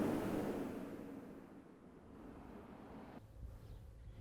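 Surf rolling and breaking along the Mbao marigots shore in Senegal, a steady broadband wash that swells early and then settles into a softer, continuous roar with some wind.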